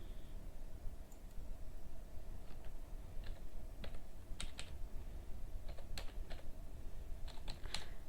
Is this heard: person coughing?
no